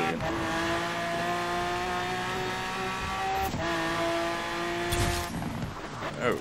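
A 2010 Mosler MT900S race car engine in Forza Horizon 4, sustained high-revving whine held near, dropping pitch at a gear shift and climbing again, with road and rain noise beneath.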